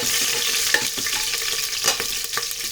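Five green chillies fry in hot oil for a mutton biryani, crackling and popping in brief bursts over a close, loud sizzle with light stirring scrapes.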